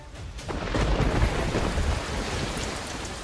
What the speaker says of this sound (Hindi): वजह नंबर 1, रिकॉर्ड तोड़ बारिश।